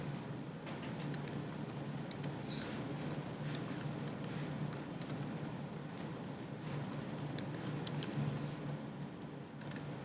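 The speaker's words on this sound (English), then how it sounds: "I'm going to type main activity." Typing on a computer keyboard: a steady run of quick, light key clicks, close and fairly quiet, continuing without pause over a low background hum.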